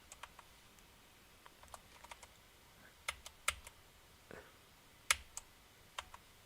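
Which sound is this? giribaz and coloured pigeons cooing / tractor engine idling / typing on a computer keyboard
typing on a computer keyboard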